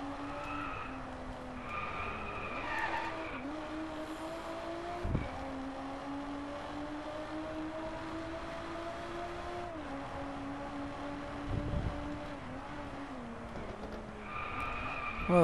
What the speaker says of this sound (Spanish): el motor del coche. Está, se oye muy chulo, en verdad.